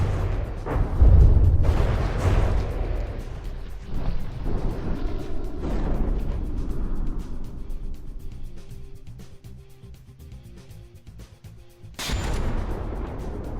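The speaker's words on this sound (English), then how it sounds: "Wait, that gun's firing? Did that thing seriously just fire?" Warship guns firing in the naval combat game From the Depths, heavy booming blasts with rumbling decay, a cluster early on and another sharp report near the end over a low battle din.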